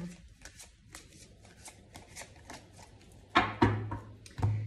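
Tarot cards are shuffled by hand in quick papery riffles and slides, soft at first and then several louder, sharper bursts of shuffling close by near the end.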